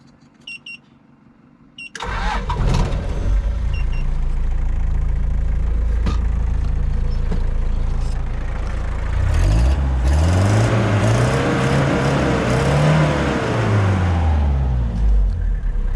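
A few clicks, then an old 47-series Toyota Land Cruiser four-wheel-drive engine cranks and catches, settling into a loud rough idle before revving up and down several times close by.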